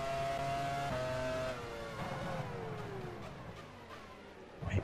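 Racing car engine in F1 Challenge 99-02, a 2001-season Formula 1 car, holds a high steady note, then drops and climbs again through gear changes, loud and close with no talk.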